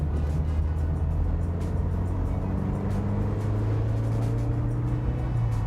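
A stock Mazda MX5 NC Miata driving through corners on country roads, a steady engine drone and tyre and road rumble with slight pitch changes, heard from inside the car with no talking.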